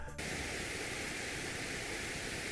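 Pink noise, a steady, even hiss softer than white noise, runs continuously and alone after a very brief quieter start.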